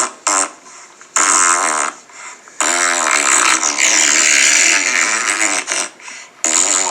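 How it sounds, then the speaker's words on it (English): Loud, close fart noises come in several sputtering bursts of varying length, some brief and some drawn out, with short gaps between them. "I'm sending Goth Kirby fart noises"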